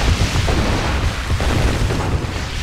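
Units firing and shells exploding in Red Alert 2, a dense, continuous rumble of booms and blasts packed together at high volume with no pauses.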